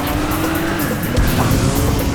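Loud racing engine with tires squealing in Midnight Club 2, a sustained skid screech over a steady motor roar, with no talking.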